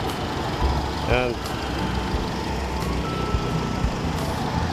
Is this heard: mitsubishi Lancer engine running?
yes